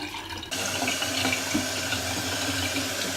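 Tap water runs steadily into a sink as a face is rinsed with cold water after a straight-razor shave, a close, continuous splashing hiss that starts abruptly and carries on alone.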